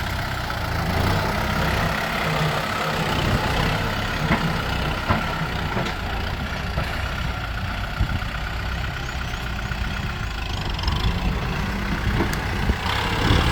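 Farm tractor engine runs steadily with a chugging, mid-to-low rumble, close and continuous, with faint clanks and rattles over the drone.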